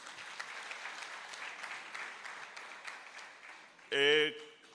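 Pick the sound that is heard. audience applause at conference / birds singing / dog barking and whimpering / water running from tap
audience applause at conference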